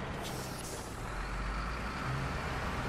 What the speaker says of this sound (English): Listen to the engine roar.